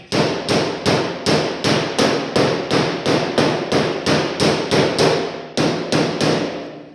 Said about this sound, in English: hopefully they didn't have to hammer all these doors down by hand